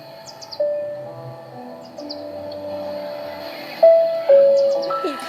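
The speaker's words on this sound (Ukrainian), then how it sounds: "Все чутно, шумить річечка, пташки співають." Birds chirp and whistle over a soft, steady river wash, with a few clear tonal calls standing out near the end, played from a Xiaomi Redmi A5 phone speaker.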